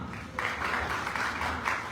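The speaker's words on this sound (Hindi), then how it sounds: "तालियां।" Steady applause from a crowd of devotees at a kirtan and performance gathering for a Vyaas Puja festival in Vrindavan, a dense, even wash of clapping that swells after a brief lull and carries on without a break.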